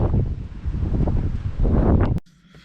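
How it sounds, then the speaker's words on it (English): Wind buffets the microphone outdoors in a loud, rough, low roar that cuts off abruptly near the end, leaving near quiet. "obviously too windy outside"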